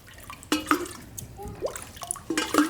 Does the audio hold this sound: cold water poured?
yes